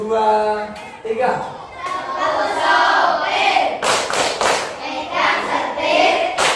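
Children in a classroom clap along to a rhythmic clapping chant, bursts of hand claps and thumps mixed with loud children's voices chanting and talking.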